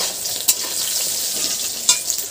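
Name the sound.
pointed gourd (potol) frying in pan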